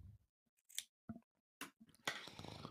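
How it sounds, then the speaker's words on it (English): Scissors snipping through mask laces, a few short, close cuts separated by brief pauses, fairly quiet. "I'm going to cut it, tie it again."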